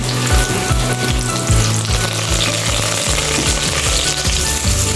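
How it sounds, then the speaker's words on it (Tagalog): Garlic and onion hit hot cooking oil for spaghetti, giving a loud, steady close-up sizzle with repeated scraping stirs, no voices. "Ilagay na po natin dito guys ang ating bawang at sibuyas."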